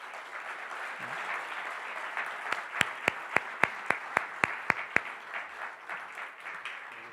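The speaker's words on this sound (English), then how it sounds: "please give a round of applause for our panelists" An evening panel audience at a Maimonides event applauds its panelists, a steady wash of clapping with a run of sharp, evenly spaced single claps standing out near the middle before it fades.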